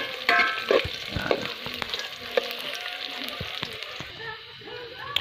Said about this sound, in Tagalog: ilalagay na natin sa ating ginisang sibuyas at bawang at luya yung ating stingray o pagi